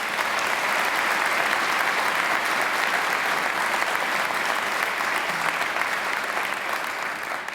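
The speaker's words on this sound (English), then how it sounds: "So they deserve your applause as well." A graduation ceremony audience at Macquarie University applauds alumni volunteers with dense, sustained clapping that holds steady throughout.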